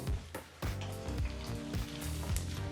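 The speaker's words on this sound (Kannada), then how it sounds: "ಒಂದು ಟೇಬಲ್ ಸ್ಪೂನಷ್ಟು ಕಡಲೆಬೇಳೆ ಹಾಗೆ ಒಂದು ಟೇಬಲ್ ಸ್ಪೂನಷ್ಟು ಉದ್ದಿನಬೇಳೆನ ಹಾಕಿ ಸರಿಸುಮಾರು ಒಂದು ನಿಮಿಷಗಳ ಕಾಲ ಬಿಸಿಯಾದಂಥ ಎಣ್ಣೆ ಮತ್ತು ತುಪ್ಪದಲ್ಲಿ ಫ್ರೈ ಮಾಡ್ಕೋಬೇಕು" Chana dal and urad dal fry in hot oil and ghee with a soft, crackling sizzle, quiet and close, with faint clinks and stirs over the spattering.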